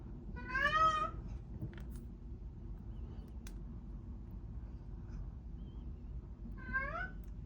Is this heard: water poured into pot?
no